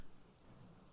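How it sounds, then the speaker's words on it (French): Theatre sound effect of a rain and hail storm: a dense, steady hiss of falling rain and pelting hail with a low rumble underneath, continuous throughout. "Il pleut et il grêle à faire plaisir."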